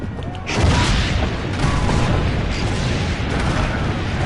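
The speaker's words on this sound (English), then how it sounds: "Aim for the cannon, signore!" Cannon fire booms in the video game Assassin's Creed Brotherhood, one loud blast near the half-second mark followed by a rumbling, noisy battle din that stays dense and heavy throughout.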